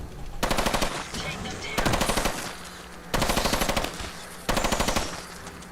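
Four loud bursts of rapid automatic gunfire from the Fallout video game, each lasting about a second, separated by short gaps of lower game ambience.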